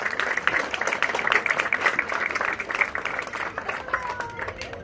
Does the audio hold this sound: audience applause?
yes